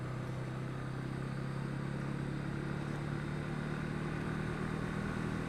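A Honda CMX500 Rebel motorcycle is ridden on twisty roads, its engine droning steadily under heavy wind rush with a constant low hum throughout and no speech.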